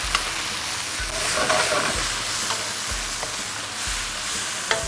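About one and a half spoons of fermented soybean paste sizzling in a hot pan with spring onion whites during a red grouper ginger stir-fry, a loud steady hiss up close with faint stirring scrapes.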